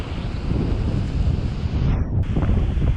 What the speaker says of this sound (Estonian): Merelained.